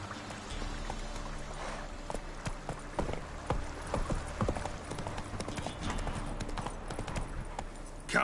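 Hooves clip-clop in a fast, steady galloping rhythm as a horse runs in The Witcher 3 on PlayStation 5, with game ambience and a brief voice underneath.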